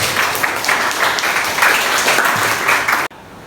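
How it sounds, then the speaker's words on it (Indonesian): A room full of people applauding at a class presentation, dense steady clapping for about three seconds that stops abruptly. "Beri tepuk tangan untuk kita semua."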